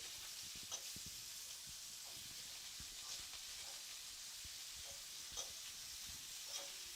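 Shrimp sizzling in a pan, a faint, steady hiss with a few light ticks and taps as pieces are turned over.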